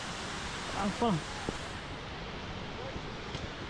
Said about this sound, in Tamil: அதாவது அந்த தண்ணி அருவி கொட்டுற சவுண்டு கேட்குதுங்க